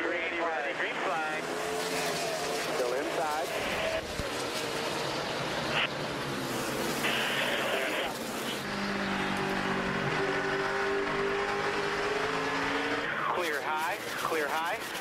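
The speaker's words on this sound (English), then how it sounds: "Let's listen in as we go full throttle." A Chevy stock car racing engine roars at full throttle during a 2008 NASCAR race, loud and continuous with rising and falling engine pitch as cars pass, while radio voices talk over it.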